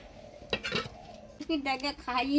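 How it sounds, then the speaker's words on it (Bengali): A lid set onto a steel tiffin box of fish sitting over water, metal clinks and a ringing clatter near the end, with a voice speaking nearby. "মাছ সমেত টিফিন বাটিটা জলের উপরে দিয়ে দিলাম এবারে ঢাকা দিয়ে দিব"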